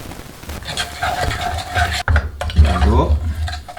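A spoon scrapes and rubs steadily against a pan while honey sesame sauce for chicken is stirred, close and continuous with a brief pause partway through, and a voice talks over it.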